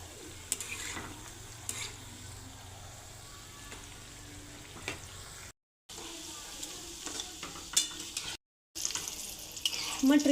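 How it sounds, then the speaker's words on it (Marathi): Methi mathri made from wheat flour fry in oil over a medium gas flame, a soft steady sizzle broken by scraping stirs and light utensil clinks, briefly cutting out twice. "मीडियम गॅसवरती आपण एकदम हलवत ह्याला क्रिस्पी होईस्तोवर आपण याला तळून घेणार आहोत."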